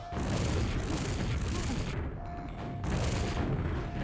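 Rocket fire and explosions in a QuakeWorld duel, a dense run of booming blasts and gunfire-like bursts with a brief lull midway, fairly loud and continuous.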